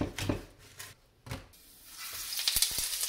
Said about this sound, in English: Holy Toledo, that's sizzling.